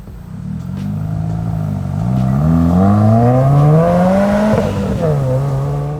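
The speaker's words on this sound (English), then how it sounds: "this deletes the factory heavy mufflers and gives you a little bit more flow out of your exhaust, and also gives you a very nice aggressive tone" Subaru exhaust fitted with a Subispeed axle-back replacing the factory mufflers, revving up with a loud, aggressive raspy drone that climbs in pitch, peaks, then settles back down, close to the car.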